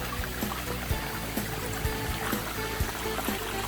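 Steady, gentle trickling and burbling of a small stream in a cypress forest, soft and continuous with faint splashes, no voices.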